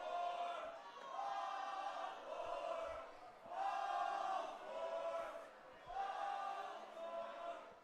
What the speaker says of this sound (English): Fans trying to cheer along